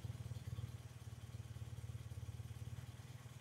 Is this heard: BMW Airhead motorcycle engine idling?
yes